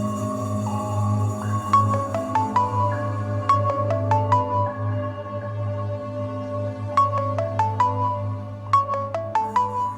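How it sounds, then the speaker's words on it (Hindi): A phone ringtone announcing an incoming call plays a repeating melodic pattern of bright tones in bursts, clear over a steady low background hum, with no talking. "जवेरिया का फोन है, तुम्हारी बहन का।"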